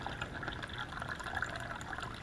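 Water runs steadily into the bag of an MRE flameless heater for a pulled pork BBQ meal, a continuous close trickling fill with no pauses and no talk.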